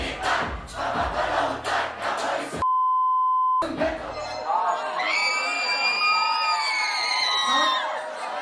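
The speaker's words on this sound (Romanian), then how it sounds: "Isterie totală, tinerii țipă, îl aplaudă, încearcă să-l surprindă din fiecare unghi și îi fredonează melodiile." Teenage fans scream and applaud a rapper on stage: loud crowd shouting, then a brief electronic beep, then sustained high-pitched screaming cheers close by.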